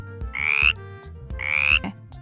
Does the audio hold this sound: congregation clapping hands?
no